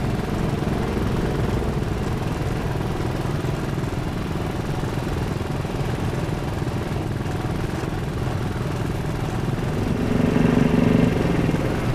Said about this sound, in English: This is my wheel horse lawn and garden tractor.